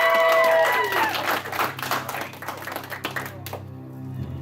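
A convention audience at an anime-style Who Wants to be a Millionaire game show claps and cheers for the contestants. The applause starts loud and dense after a brief musical sting, then thins out and fades over a few seconds.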